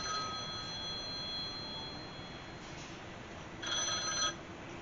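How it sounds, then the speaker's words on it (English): A telephone rings at a botanical garden and nature preserve, a steady tonal trill that is faint and somewhat distant, sitting over a constant background hiss and swelling slightly near the end. "The phone was ringing."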